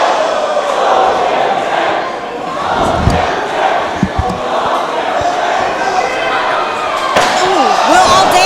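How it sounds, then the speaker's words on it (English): A metal chair strikes a wrestler's back during a cage wrestling match, producing sharp, loud impacts over a large, noisy crowd while a commentator talks throughout. "Finally using that chair, hitting Terrell Tempo on the back"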